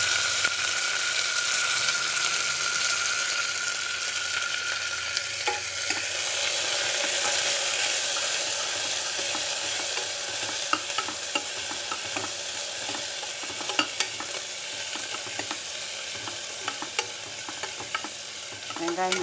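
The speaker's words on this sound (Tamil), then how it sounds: "வெங்காயம் போட்டுருவோம்." Chopped onions fry in hot oil with green chilies while a spoon stirs them, a steady close sizzle broken by scraping and clinking strokes against the pan, growing busier toward the end, with no talking.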